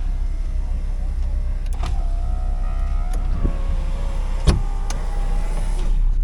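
A 2002 Mazda Miata NB's power window runs with a steady whirring electric motor hum over a low idling-engine rumble at a wrecking yard, broken by a few sharp clicks and thumps.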